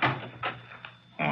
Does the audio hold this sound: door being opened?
yes